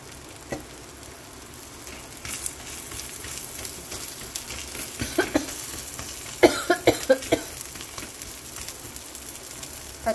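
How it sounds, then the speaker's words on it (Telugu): A short run of coughs, set off by fumes from green chillies while pesarattu cooks, breaks out in quick succession over the soft sizzle of the pan. "కొంచెం దగ్గు కూడా వస్తుంది"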